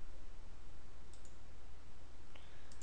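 A few faint mouse clicks on a web page, spaced irregularly over a low, steady background hiss.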